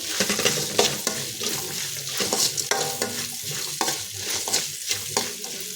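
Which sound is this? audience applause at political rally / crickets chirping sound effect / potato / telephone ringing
potato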